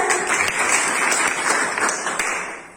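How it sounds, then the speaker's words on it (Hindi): Brief round of audience clapping at a business seminar, dense overlapping claps that gradually taper off over a few seconds. "चलिए सबके जोरदार तालियां हो जाए।"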